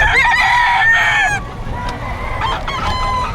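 A rooster crows at a busy Bocaue pet market, the long cock-a-doodle-doo rising clearly over crowd hubbub, with more clucks and fowl calls following among the market stalls.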